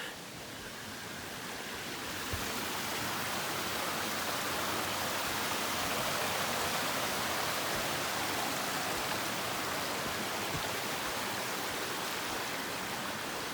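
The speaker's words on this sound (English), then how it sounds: "teeming pouring rain." Heavy rain pours down at night on an Appalachian Trail campsite, a dense, steady hiss that swells in after a couple of seconds and then holds constant, with no voices.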